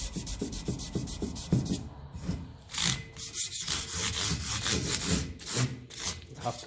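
Abrasive rubbing and sanding strokes on the metal surface of a Ferguson 20 tractor grille, roughening it up before paint; repeated rhythmic scrubbing passes, close and fairly loud, with a few brief pauses between bursts.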